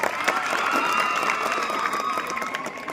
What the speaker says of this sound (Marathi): टाळ्या वाजून अभिनंदन करा